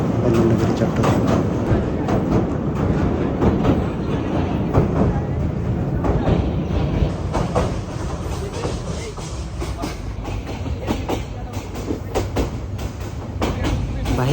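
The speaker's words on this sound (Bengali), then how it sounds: "ট্রেন খুব ধীর গতিতে আসনগঞ্জ ব্রিজ দেওয়া হচ্ছে।" A passenger train crawls slowly across the Asanganj bridge on the way to Chittagong, heard from inside the carriage as a loud steady rumble with rapid clicking wheels, and a voice talks over it.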